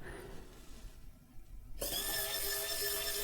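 A Xiaomi Wowstick P1+ electronic screwdriver fitted with a flat bit switches on abruptly after quiet handling noise, then holds a steady high whining motor buzz close to the listener.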